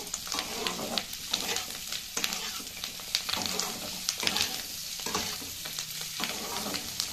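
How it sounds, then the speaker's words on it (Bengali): Chillies frying in a pan over high gas for chilli chicken, giving a steady close sizzle with frequent crackles and scraping stirs throughout. "এইগুলো আমি 1 মিনিট ভালো করে ভেজে নেব"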